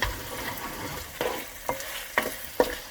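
Garlic fries on the side in a pan while a spoon stirs it, with a soft sizzle under four distinct scraping strokes near the end, close up and quiet.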